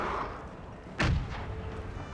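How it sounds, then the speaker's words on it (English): A single heavy artillery shot booms midway through a battle in the Napoleon Era Mod game. The deep thump cuts through a steady background rumble and fades quickly. "As the artillery is bouncing the shots through there."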